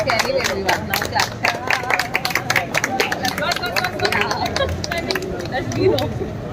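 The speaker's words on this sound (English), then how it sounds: "everyone, now clap" Audience clapping at a marine engineering department event at AMET University, a dense patter of many hands with crowd babble and speech mixed throughout.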